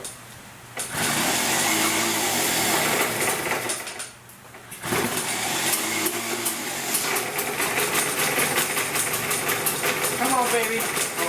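A Puch Dart moped engine coughs into life after 15 years, a buzzy, high-revving two-stroke putter that dips briefly and then catches again, with a person talking over it.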